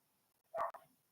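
A dog gives a single short bark, then a quick trailing yip, fairly faint against near silence.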